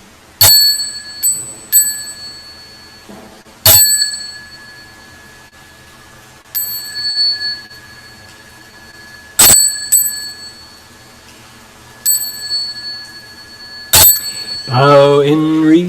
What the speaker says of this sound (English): We will have 3 bells now.